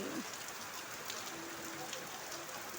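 Heavy morning rain falls in a constant, close hiss, with a faint tonal sound briefly audible beneath the steady downpour.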